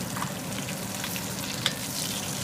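Pork ribs fry in hot oil with a continuous, crackling sizzle, occasional sharper pops rising above the steady hiss.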